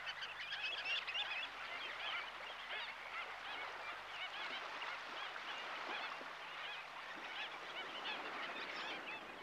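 A large flock of waders gathered at a busy shorebird site, calling in a dense, continuous chatter of many overlapping voices, steady and moderately distant.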